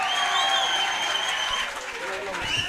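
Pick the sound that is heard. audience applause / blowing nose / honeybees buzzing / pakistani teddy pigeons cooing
audience applause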